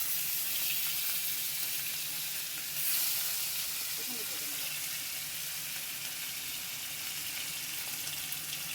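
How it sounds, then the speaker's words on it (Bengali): Pieces of hilsa fish fry in hot oil at home with a steady, bright sizzle that fills the whole clip at a fairly even, close level, rising briefly once when the fish is stirred or shifted. "এবার হালকা হালকা মাছটাকে আমি একটু ভেজে নেবো।"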